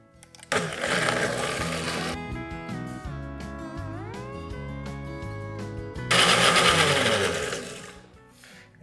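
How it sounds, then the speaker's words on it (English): A blender whirs through ingredients for a burnt miso cake, with a loud roaring burst, a lower humming stretch where the motor pitch rises, then another loud burst before it winds down, close and alone. "We're gonna blend these until this is got smooth."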